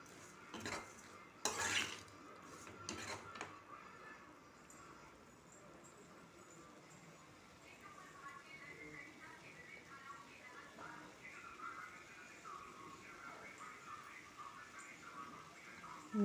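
A spoon scrapes and clatters in a pan as mutton kulambu is sautéed and stirred, with a few sharp metallic knocks early on, then a soft, faint sizzle and quiet stirring.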